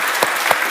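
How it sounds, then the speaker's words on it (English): Applause from the audience at the opening and project pitches of a Haskell community event. A short, steady wash of clapping with a couple of sharper hand slaps standing out, and no talk over it. "let's clap for that."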